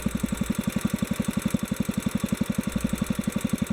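A Kohler K-series small engine idles steadily while its carburetor is being adjusted. It gives an even, rapid low thump that stays loud and close throughout, with no voices.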